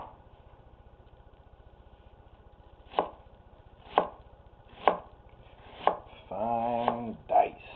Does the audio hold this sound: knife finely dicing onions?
yes